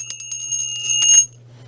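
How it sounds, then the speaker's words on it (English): Small bells handled and jingled, several quick bright rings clustered together before cutting off abruptly, close and fairly loud with a steady low hum underneath. "We have some bells"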